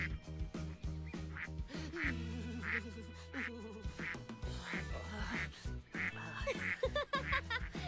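Repeated nasal quacks from ducks over a busy background of music-like tones, loud and close, coming in irregular bursts.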